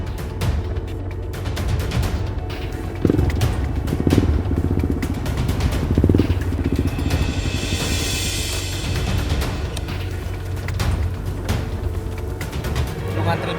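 A motorcycle engine rumbles close by as it is ridden and then parked, with clattering thumps partway through and people talking over it.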